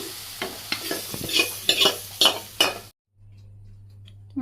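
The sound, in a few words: stirring khichuri in an oiled wok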